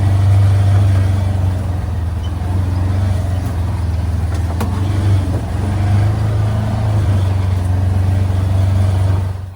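A Ranger utility vehicle engine runs steadily at close range, a loud, continuous low drone with a constant idle-like rumble and no talk over it.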